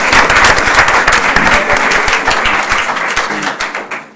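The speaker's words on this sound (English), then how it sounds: "You can tell by the applause." Loud, dense applause from a city council meeting audience fills the room continuously, steady for several seconds before gradually thinning out toward the end.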